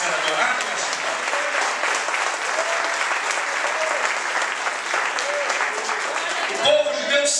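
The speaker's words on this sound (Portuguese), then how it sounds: "Se este aplauso é para Jesus, aplauda mais" Warm, dense applause fills a church during an afternoon sermon, the congregation clapping steadily and loudly for several seconds before a voice breaks in near the end.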